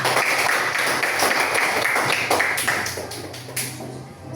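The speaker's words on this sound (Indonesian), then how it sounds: "tepuk tangan untuk kita semua" A school class applauds together in a classroom, a steady wash of many hands clapping briskly that thins and tapers off toward the end.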